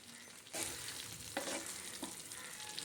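Cauliflower and potatoes being stirred in a frying pan: a steady sizzle with a few louder scraping strokes of the spoon against the pan, close and clear, no voices.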